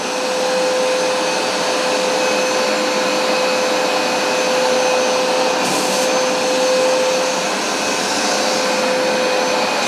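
A Hoover SmartWash carpet cleaner runs close by with a loud, steady motor roar and a high whine, unchanging for the whole stretch with no voices.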